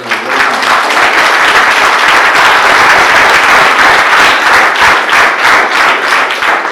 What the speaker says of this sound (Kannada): ಅವರಿಗೆ ಒಂದು ಚಪ್ಪಾಳೆ ಮುಖಾಂತರ